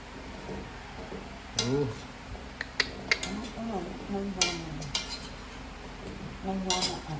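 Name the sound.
stirring ginataan vegetables in a large pan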